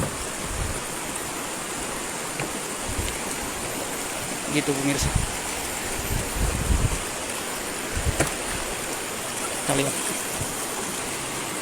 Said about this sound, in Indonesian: Sungai ini mengalir langsung dari Gunung Dempo